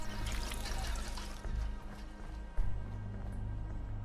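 Water pump in the video game Fallout 4 pouring a steady stream of water, a continuous splashing rush with a brief dip and a sharper gush midway, heard alone.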